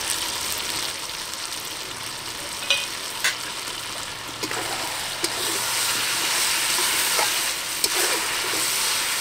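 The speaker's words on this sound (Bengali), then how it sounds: "ভাজা মশলাটাকে এখন দিয়ে দিলাম।" Bengali-style chicken curry with potatoes sizzles and fries steadily in a pan after a roasted spice mix goes in, a continuous close hiss with a few brief stirring clinks, no talking.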